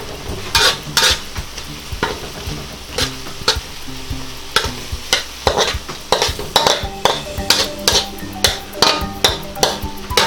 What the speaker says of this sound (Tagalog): Kumulo na ang ating shrimp. Ayan. Tapos, hahaluin lang po natin siya.